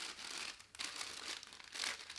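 A square of greaseproof paper for lining a cake tin is folded by hand, giving close, crisp crinkling and rustling in uneven bursts, moderately quiet with no talking.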